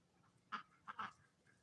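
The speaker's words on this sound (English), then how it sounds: "You hear those turkeys?" Wild turkeys call outdoors on a farm in the morning, giving a few short, faint honking yelps in quick succession with no one talking.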